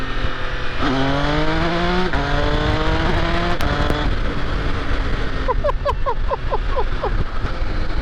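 A 2024 MV Agusta Enduro Veloce adventure motorcycle pulls hard in second gear, its engine note climbing loud and close in rising sweeps with gear changes, then a burst of rapid pops and crackles before it settles.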